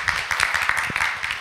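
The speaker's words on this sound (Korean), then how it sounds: "박수 쳐드리고 싶습니다" Audience applause at a university student research symposium, a steady patter of many hands clapping through the whole short stretch, moderately loud and fairly close.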